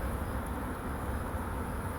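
Bees buzzing around a beehive being set up, a steady low drone that holds evenly and close throughout, with no voices.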